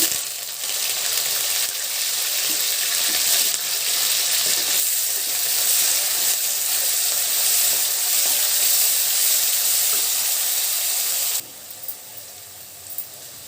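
Chopped onion, green chillies, curry leaves and garlic hit hot oil in a pan for Andhra-style red amaranth curry, a loud continuous sizzle and hiss that eases off toward the end, broken by a few light clinks.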